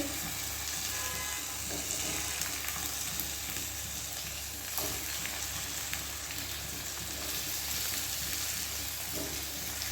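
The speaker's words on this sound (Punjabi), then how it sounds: "ਆਪਣਾ ਤੇਲ ਗਰਮ ਹੋ ਚੁੱਕਿਆ ਵਾ ਹੁਣ ਇੱਥੇ ਆਪਾਂ ਕੀ ਕਰਾਂਗੇ ਆਪਾਂ ਆਪਣੇ ਟਮਾਟਰਾਂ ਨੂੰ ਇਸ ਤਰੀਕੇ ਦੇ ਨਾਲ ਇੱਥੇ ਰੱਖ ਦਵਾਂਗੇ" Tomatoes frying in hot oil in a pan, a steady, dense sizzle that holds at an even level throughout, close and loud with no voices.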